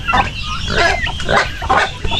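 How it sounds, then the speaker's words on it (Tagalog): Pigs on a farm grunting and squealing in a quick, busy cluster of close, loud calls, with farmyard noise underneath. "Tapos may baboy tayo dyan."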